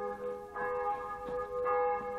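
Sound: church bells ringing

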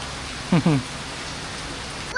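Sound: rain falling

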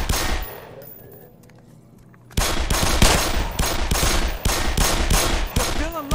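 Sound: gunfire in Black Mesa video game

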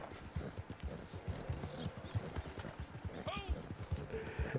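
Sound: horse hooves in video game Red Dead Online

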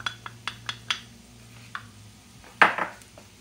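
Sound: stirring flour into a mixture in a pan

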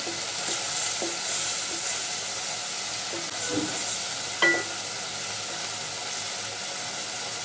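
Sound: frying hilsa fish head in a pan

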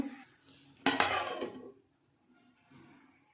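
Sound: covering the cooking pan with a lid

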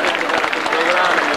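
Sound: audience applause at a festival

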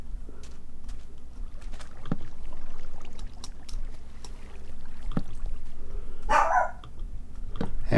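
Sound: dog barking in real life

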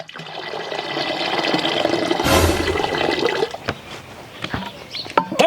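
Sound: water being poured into milk

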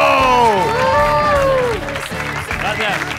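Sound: studio audience applause

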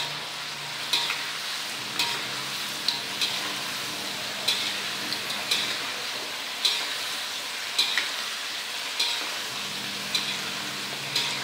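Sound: salted fish frying in a pan

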